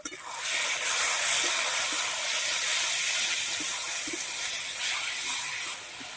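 Water poured over a turmeric, chili and cumin paste in hot oil, cooking for a large pangas fish curry, raises a loud, steady steam hiss and sizzle that holds for several seconds before easing at the end.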